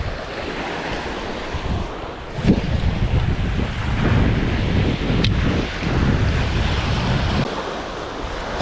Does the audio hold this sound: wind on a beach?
yes